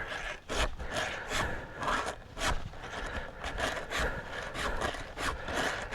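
A chainsaw file rasps back and forth against a chainsaw chain in quick, regular strokes, close up and scratchy, with no talking.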